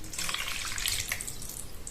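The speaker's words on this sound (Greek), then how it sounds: "Θα προσθέσουμε 200 γραμμάρια νερό από τη βρύση." Tap water pours steadily into a sourdough starter in a home kitchen, a continuous bright splashing hiss with no pauses across the whole stretch.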